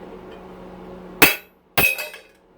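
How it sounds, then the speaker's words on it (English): Two sharp metallic hammer blows strike a chisel to drive a bearing out of a cast aluminum electric motor housing from a pressure washer, each ringing briefly before fading, with a low hum between. "So one bearing has to come out to be clean. One hammer."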